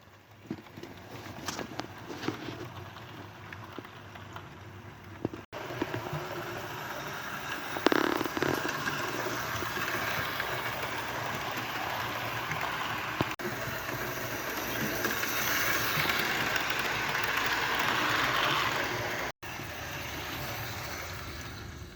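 A Hornby Dublo diecast A4 model locomotive runs along its track with a continuous faint rattling rumble and light clicking that swells slightly midway, heard alone without voices.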